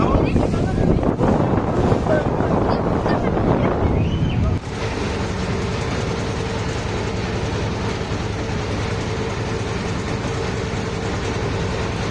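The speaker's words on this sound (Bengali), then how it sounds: "খুব সুন্দর ওয়েভ আর অনেক বাতাস" Strong wind buffets the microphone over a steady rush of water and waves on a lake at Nikli haor, loud and continuous, with a sudden shift partway through.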